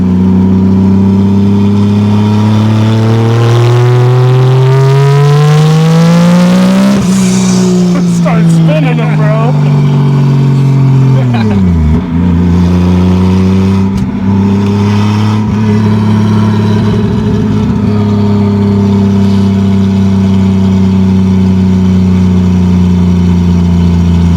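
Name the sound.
1987 Toyota Supra 2JZ-GE NA-T engine revving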